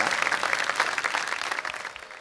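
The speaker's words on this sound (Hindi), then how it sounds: "भरपूर तालियों में इस्तकबाल कीजिए" An audience at a mehfil gathering claps warmly to welcome a performer, a dense, even burst of many hands that holds steady and then begins to fade.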